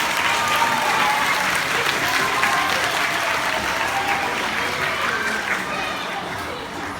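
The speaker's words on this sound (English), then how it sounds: "So let's give a round of applause to Chris." A school assembly audience claps steadily and loudly for several seconds, a dense continuous round of applause with light crowd noise.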